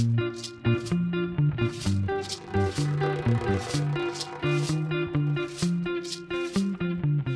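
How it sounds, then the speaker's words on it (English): Upbeat theme music from Bluey plays over speakers at a nighttime water park dance party, a bouncy melody with a steady beat and bright cymbal hits, carrying clearly without talk over it. "They are playing Bluey at the dance party."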